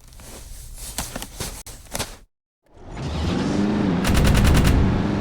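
A vehicle-mounted gun fires in the video game Jak 3. Rapid, loud automatic bursts rattle out, pause into brief silence, then return as a sustained roar of fire with a dense final volley.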